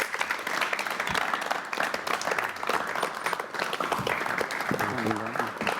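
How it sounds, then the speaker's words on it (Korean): Studio audience on a 1989 Korean TV talk show applauding to welcome two guests, continuous clapping with voices and a brief tonal sound near the end. "두 사람 좀 여러분 박수로 맞이해 주시겠습니다"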